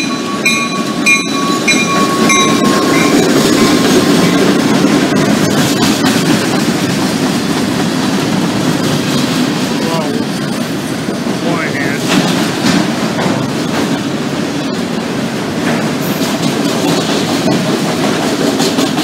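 A short freight train made up of a cut of autoracks and two empty auto-parts boxcars rolls past close by, a loud, continuous rumble and rattle of railcars with intermittent clanks and squeals throughout.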